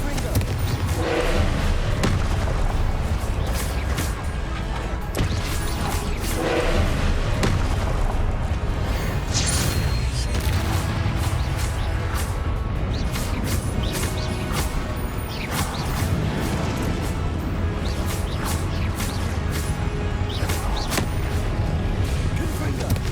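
Confringo blasting spells explode repeatedly in Hogwarts Legacy, dense booming impacts and thuds landing in a continuous loud barrage amid game effects and a voice calling out.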